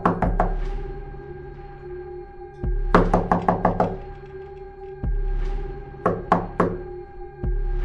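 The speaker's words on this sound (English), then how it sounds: "a mysterious knock echoed through their home" Knocking on a door inside a home, heard as loud, close knuckle raps in quick bursts of three or four, with pauses and low thuds between them.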